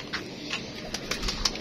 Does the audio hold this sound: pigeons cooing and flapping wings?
yes